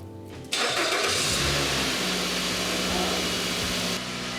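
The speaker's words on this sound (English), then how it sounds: "You can tell the idle is like almost 2000 RPM here." A car engine cranks and catches, then holds a loud, steady high idle near 2000 RPM, likely from a vacuum leak tied to a P0102 airflow sensor fault, droning close by with no talk.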